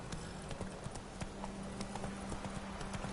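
A horse cantering in The Witcher 3 video game makes a fast, steady clip-clop of hooves, quiet and even throughout, with no speech.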